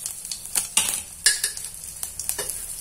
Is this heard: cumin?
yes